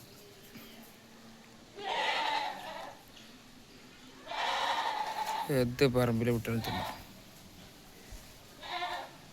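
A single wavering young goat's bleat, loud and close, breaks in between stretches of someone talking at a livestock sale.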